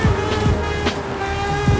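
A car engine climbs in revs as the driver gets back on the throttle out of a corner, giving a loud, close, sustained drone with quick pitch rises and short shift dips.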